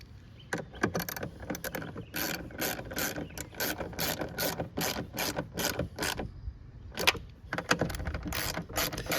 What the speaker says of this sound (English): tighten them back up and finish them with our ratchet here.